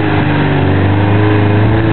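A vehicle engine revs steadily while powering a winch, producing a loud, continuous, close droning roar with a low, even hum and no pauses or talk.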